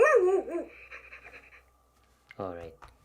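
A Hasbro Joy for All robotic companion pet dog lets out a close, loud electronic bark followed by softer whimpering tones, while a person speaks briefly near the end.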